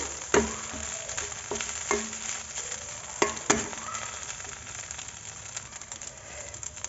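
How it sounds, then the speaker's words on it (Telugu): Cooked rice being mixed in a sizzling pan for gobi manchurian: a soft, steady fry with several sharp spatula knocks and scrapes against the pan, clustered near the start. "ఇప్పుడు బాగా మిక్స్ చేసుకునేసి ఇందులోకి"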